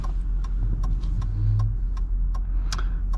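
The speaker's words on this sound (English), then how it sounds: "We're driving in rush hour traffic right now." A 2005 Ford Thunderbird 50th Anniversary with 280 horsepower rolls through rush-hour traffic at night, its low engine hum steady inside the cabin, broken by a regular series of faint ticks like a turn signal clicking.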